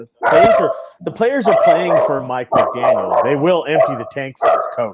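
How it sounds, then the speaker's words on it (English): A pet dog barks in the background while someone talks loudly over it about football, the barks largely buried under his steady speech. "Sorry, that's my dog."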